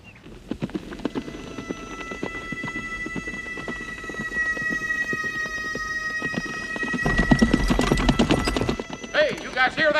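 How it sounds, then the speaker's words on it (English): Horse hooves clip-clop in a steady rhythm that draws closer and grows louder, ending in a whinny, while voices talk over a faint rain-like background. "Is that a horse?"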